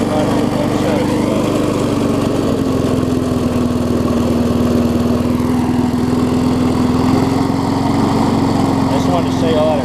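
A mower engine, swapped into a rally racing lawn mower, runs at a steady idle-like drone with a constant buzzing hum, loud and close throughout with no breaks.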